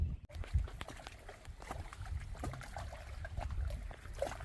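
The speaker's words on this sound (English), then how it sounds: "I love hearing the sound of the water lapping." Pond water lapping gently against the shore beside a beaver dam, faint soft trickles and small splashes heard close by in a quiet outdoor setting.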